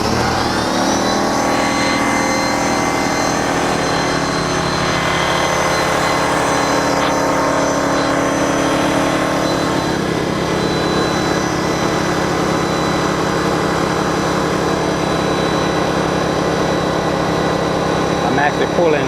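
A Honda EU2200i inverter generator starting up and running with a loud, steady engine drone and hum, with a voice speaking briefly over it.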